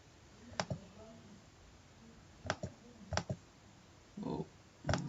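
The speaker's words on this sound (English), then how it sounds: "I am not able to click the right." Computer mouse clicks during a software installation on a PC, sharp close single and double clicks spaced a second or so apart, with a faint duller thump near the end.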